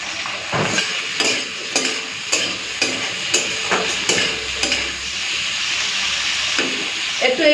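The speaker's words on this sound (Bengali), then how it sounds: "একটু এইভাবে নাড়াচাড়া করে নিয়ে তারপরে ঢাকা দিয়ে রেখে দেবো কিছুক্ষণ" Ivy gourd (kundru) with salt and turmeric is stirred in a pan, a spatula scraping in regular strokes over a soft steady sizzle, close and moderately loud.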